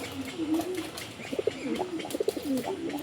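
Pigeons coo close by in low, throaty, rolling phrases, several soft bursts overlapping over a few seconds.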